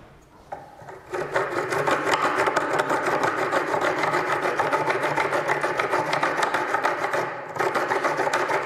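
Steady, rapid rasping strokes of a scallop shell sawing through wood, continuous and fairly loud after a brief quiet start, with a short pause near the end.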